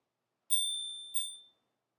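Two bright rings of a small bicycle bell on a DYU T1 lightweight foldable e-bike, close and clear, the second strike following about half a second after the first, each ringing out and fading, with no talk.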